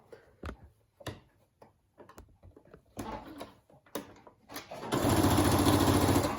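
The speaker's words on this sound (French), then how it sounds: "Et je viens surpiquer, refaire une petite piqûre." A sewing machine topstitches fabric for a cloth face mask, starting after scattered soft clicks and handling knocks, then running as a loud, steady mechanical whir with rapid needle rhythm to the end.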